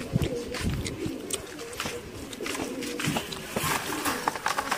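Several pigeons coo in a loft or cage area, soft low calls repeating under nearby voices and a steady background hum.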